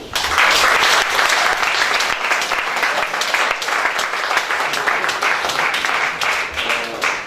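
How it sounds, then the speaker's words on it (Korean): Steady, loud applause from an audience at a humanities lecture on Hannah Arendt, dense clapping filling the room without a break from start to finish. "박수"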